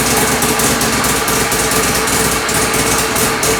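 A Mazda RX-7 rotary engine runs steadily at idle with a buzzy, raspy, loud drone throughout, no talk over it.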